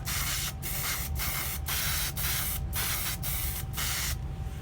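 Spray can hissing steadily as paint goes onto metal Jeep Wrangler JK front fender liners, close and loud, with brief breaks between bursts.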